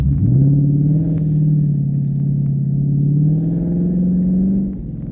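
A 2016 Ford Mustang GT V8 engine drones loud and steady during a power slide on snow in minus-20-degree icy conditions, its pitch rising slightly before easing off near the end, with no talk.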